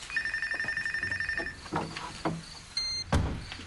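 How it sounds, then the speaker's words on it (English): A telephone rings in a quiet room with a steady electronic bell trill for about a second and a half, followed by a few soft thuds and movement sounds. "Would you answer the phone?"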